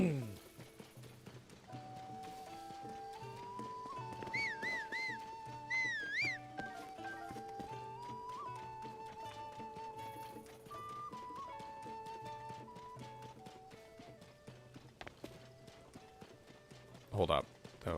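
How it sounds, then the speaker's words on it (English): Horse hooves clip-clopping steadily in Zelda: Tears of the Kingdom, near Kakariko Village, with a brief whinny, under game music and a man's speech. "I just called this horse over."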